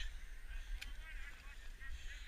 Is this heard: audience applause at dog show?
no